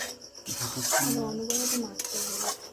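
Sesame seeds and peanuts stirred continuously in a pan over low gas, a close dry scraping and rustling that runs throughout, with a voice talking over it.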